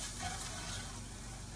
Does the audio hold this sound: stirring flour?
yes